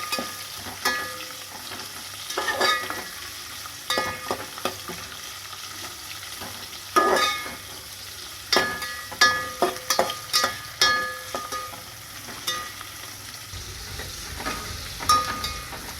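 Onion with garlic and grated coconut sautéing in a pan for chicken biryani, a steady sizzle broken by repeated scraping stirs and clinks of a spatula, fairly close, with no talking.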